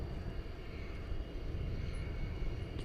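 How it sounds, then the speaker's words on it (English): United Airbus A319 departing Dallas Fort Worth for Denver at night, a steady low engine rumble and roar holding at moderate level throughout, with no talk over it. "As we look at United Flight 1961 going to Denver, an Airbus A319."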